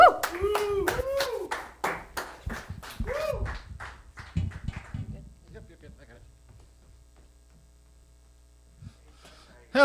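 A live audience claps and whoops to welcome a performer onto a stage. Loud cheering voices mix with the clapping at first, then the applause thins out and fades to near silence, and a brief sound returns at the very end.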